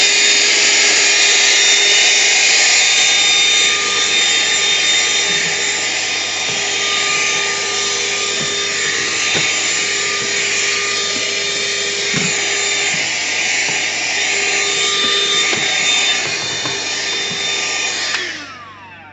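A cordless vacuum whines steadily at close range for about eighteen seconds, picking up sawdust with faint debris rattles, then winds down and cuts off at the end.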